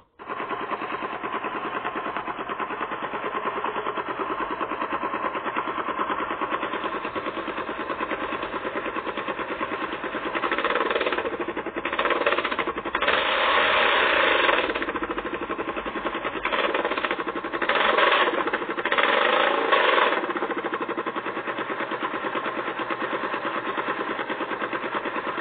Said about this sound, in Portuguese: A próxima moto que eu vou mostrar pra vocês é a Suzuki Boulevard